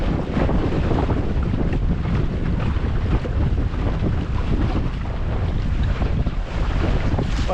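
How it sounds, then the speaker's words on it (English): A cold westerly wind blows hard across a sailing dinghy at sea, a loud, unbroken rush of wind buffeting the microphone over waves and water noise. "a bloody freezing cold westerly's kicked up"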